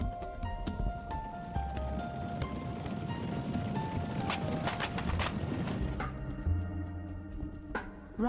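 A horse being ridden clip-clops at a steady walking rhythm, its hoofbeats fairly soft and moderately close against a constant background of outdoor noise, with no talking.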